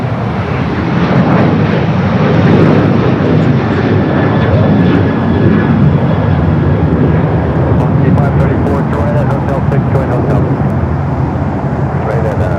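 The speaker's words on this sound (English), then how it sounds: "runway 25 right at Foxtrot, clear for takeoff" Airliner taking off from runway 25 right at Los Angeles airport, a loud sustained broadband engine roar filling the whole stretch with steady rumble, with radio talk layered over it.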